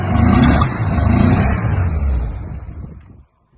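An old Porsche 356 B engine, just out of long-term storage, idles with a loud, rough rumble close by, then cuts off abruptly into silence.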